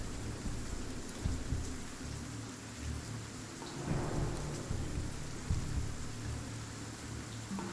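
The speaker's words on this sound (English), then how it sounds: "Let's turn the rain down." Rain and thunderstorm ambience played as a backdrop during a tabletop Pathfinder session, with steady dense rainfall and low rolling thunder swelling around the middle, continuous and moderately loud with no talk.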